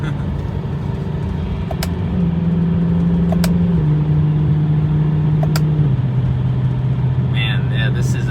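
BMW E92 M3 engine dropping gears through magnetic paddle shifters, a steady loud drone that steps down in pitch twice, with faint clicks of the paddles and a brief rise near the end.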